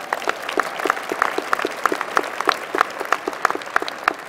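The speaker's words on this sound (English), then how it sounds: "Give her another round of applause for that." A commencement ceremony crowd for an engineering school gives a round of applause, a continuous patter of many hands clapping at moderate distance, steady and fairly even for several seconds with no voices over it.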